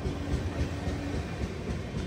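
The Visakhapatnam–Kollam Express runs slowly toward a road-cum-rail bridge over the flooded Godavari, heard from inside the train. A steady, close rumble of wheels and carriages continues throughout, with no talking.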